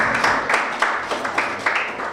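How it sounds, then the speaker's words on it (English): An audience gives a round of applause at a community gathering, a dense wash of hand claps with a few sharper peaks rising through it, steady and fairly close for a couple of seconds. "Give yourselves a round of applause because you've been selected to come here"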